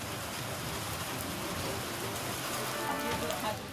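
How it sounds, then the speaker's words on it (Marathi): Unseasonal rain showers fall steadily over a city, a continuous even hiss of raindrops on surfaces with no pauses or voices. "शहरात देखील तब्बल अर्धा तास पावसाच्या सरी कोसळल्या"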